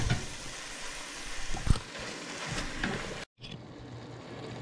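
Meat browns in a hot pan while being prepared for haggis, a close, continuous sizzle with occasional stirring knocks and a brief cut to silence partway through.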